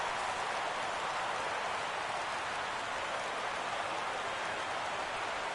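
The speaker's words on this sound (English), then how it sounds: "it's really raining hard here tonight" Heavy rain falling on a night baseball game in a PS4 video game, a dense, steady, loud hiss of downpour that holds unchanged throughout, with no talk over it.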